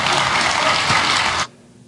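Dense, steady applause from a large keynote audience at an iOS 8 presentation, loud and continuous for about a second and a half before cutting off abruptly into quiet room tone.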